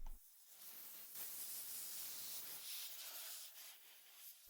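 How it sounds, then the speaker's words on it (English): Compressed air from a hose blows dirt off the carburetor of a Toro string trimmer, making a faint, steady hiss that swells and eases over a few seconds. "I'm going to try blowing off most of the dirt with some compressed air"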